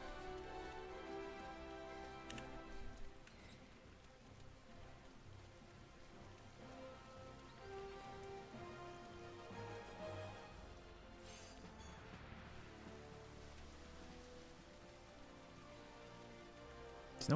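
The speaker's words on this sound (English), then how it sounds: "Oh god, it's raining." Steady rain falls across an outdoor area in Final Fantasy XIV, a soft continuous patter of drops hitting the ground that holds evenly throughout with no talking.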